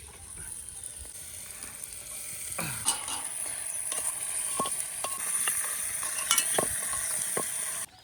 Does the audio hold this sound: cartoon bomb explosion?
no